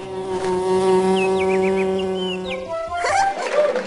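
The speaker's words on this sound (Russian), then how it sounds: "Сейчас пчеленок снова будет собирать нектар." A cartoon bee buzzes steadily while collecting nectar in a children's animated show, a loud continuous drone with warbling chirps over it before a bright sparkly flourish at the end.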